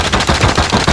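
Rapid gunfire in the survival video game Rust, a burst of about six sharp shots in quick, even succession, loud and close, with no talking over it.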